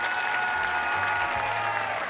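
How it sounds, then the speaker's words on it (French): Studio audience on a French TV game show applauding a contestant, a dense steady wash of clapping throughout with low tonal music underneath. "je voudrais qu'on applaudisse très très fort Cyril."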